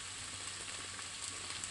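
Rice stirred and frying in ghee gives a steady, faint sizzle with soft crackling throughout.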